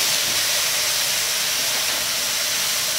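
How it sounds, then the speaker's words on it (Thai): Japanese mushrooms stir-fry over high heat with oyster sauce, giving a loud, steady, close-up broad hiss of sizzling that fills the whole stretch without talk. "ผัดด้วยไฟแรงนะครับ"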